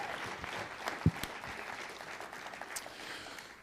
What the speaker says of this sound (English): Nice round of applause for them, huh?